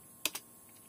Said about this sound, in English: just press enter